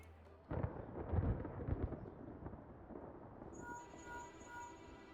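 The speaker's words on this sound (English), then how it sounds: "Would you look at that? There's a storm." Thunderstorm in the game Final Fantasy XIV, a loud rolling thunder rumble that bursts in early and fades slowly into steady rain-like ambience with a faint tone near the end.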